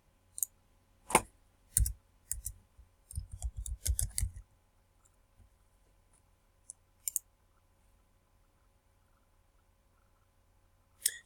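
Computer mouse clicks at a desk: scattered single and double clicks, with a quick cluster of several in the first few seconds and isolated clicks later, crisp and close against near silence.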